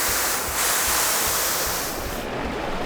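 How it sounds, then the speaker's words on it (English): Clean water from clarifiers pours into disc filters at a water treatment facility, a loud, steady rushing wash that stays constant throughout, with no voices. "Clean water from the clarifiers comes over to our disc filters"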